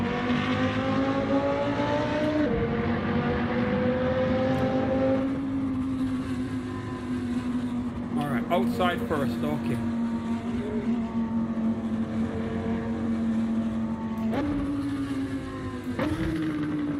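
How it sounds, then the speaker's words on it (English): An Audi R8 in the racing game Assetto Corsa drones steadily through its engine and exhaust, a sustained loud tone that shifts pitch with gear changes and throttle, with brief crackles mid-way and someone speaking briefly. "Now the exhaust is nice."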